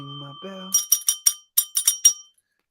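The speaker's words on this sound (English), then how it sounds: "Thanks for ringing the subscriber bell" A bell sound effect rings in a quick series of about eight bright, metallic dings after a brief voice, then fades to silence.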